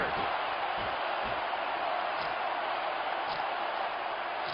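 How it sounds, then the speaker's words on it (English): Dense, steady roar of a capacity arena crowd cheering during a wrestling match in WWE SmackDown! vs RAW 2006, continuous and loud throughout. "This capacity crowd is making their opinions known tonight."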